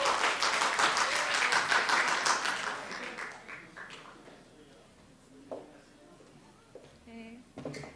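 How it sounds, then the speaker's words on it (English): An audience at an academic philosophy session gives a round of applause that starts full and loud, then tapers off over a few seconds, followed by quiet room sounds and a few speaking voices. "Can we all please give her a round of applause?"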